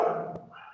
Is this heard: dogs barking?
yes